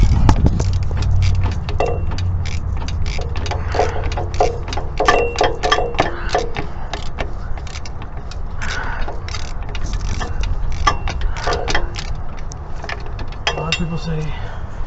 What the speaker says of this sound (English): now that you pop it loose, you can spin it on the ratchet like this.